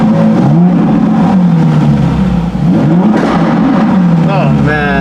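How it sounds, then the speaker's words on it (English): A cold Ferrari 458 Spider with its 4.5-litre engine revs loudly up close, the pitch climbing and falling across several blips over a steady idle, with a voice speaking over it. "how good does this sound?"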